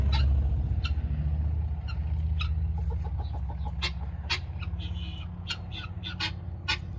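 Guinea fowl and chickens close by, with a run of sharp clucks and rapid squawks over a low rumble, the calls coming in bursts of varying loudness.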